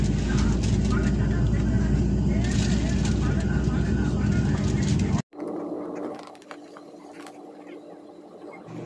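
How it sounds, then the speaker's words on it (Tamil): A SpiceJet passenger jet's engines on the ground in Sri Lanka before takeoff for Chennai: a loud, steady broadband roar that cuts off abruptly partway through, then a quieter, lower cabin hum with faint voices. "தற்போது ஸ்பைஸ் விமானம் இலங்கை மண்ணிலிருந்து இந்தியாவில் சென்னை நோக்கி"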